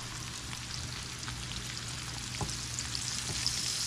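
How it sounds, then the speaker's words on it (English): Flour cooking in olive oil for a roux in a beef stroganoff pan, a soft continuous sizzle and crackle with faint scattered pops, steady and close, no talking. "So I'm just going to make a little bit of a roux"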